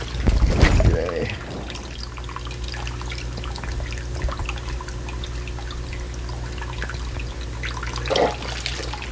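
Water trickles into a guppy pond as it fills, a soft steady dribble with light drips, briefly louder splashing at the start and near the end.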